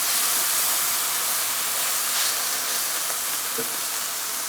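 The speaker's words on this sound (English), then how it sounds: "So we're going to deglaze with vermouth." Vermouth hits a hot pan of browning onions to deglaze, giving a steady, loud steamy hiss that sizzles on without a break.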